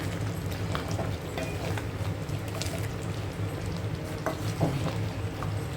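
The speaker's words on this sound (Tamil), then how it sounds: "ஆட் பண்ணிட்டு நல்லா மிக்ஸ் பண்ணி விட்டுடுங்க" Chicken thokku with added fennel powder is stirred in a hot pan, a steady close sizzle with scraping spoon strokes and scattered crackles throughout.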